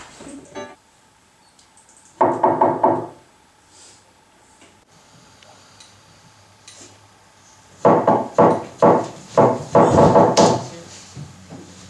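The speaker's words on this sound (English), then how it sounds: "how many people knock on the doors calling themselves Little Red Riding Hood?" Knuckles rapping on a wooden door, first a short cluster of quick knocks, then after a pause a longer run of louder, sharper knocks in uneven groups, close and distinct with no speech.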